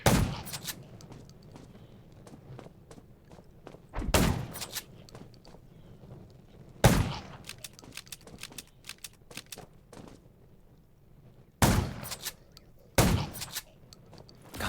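Gunshots in the zombie survival video game Undawn crack out as sharp, loud single shots and short bursts separated by quieter gaps, with faint clicks and movement between them.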